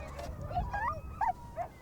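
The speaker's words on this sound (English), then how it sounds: "The dogs are hungry, so I have to be a little bit careful not to get bitten." Hungry dogs whimper and yip in short, rising cries, close by over a low rumble of background noise; a few brief bark-like yelps break through, with no one speaking.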